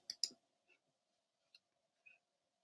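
A few quiet, isolated mouse clicks, close and dry, land on a form's save button, with two sharp clicks at first and then sparse single ticks in near silence.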